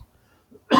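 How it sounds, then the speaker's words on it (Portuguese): A single short cough bursts out near the mic from a Portuguese-speaking presenter during a lecture on workplace safety, environment and health, coming after a brief moment of quiet. "Desculpe pela tosse aqui."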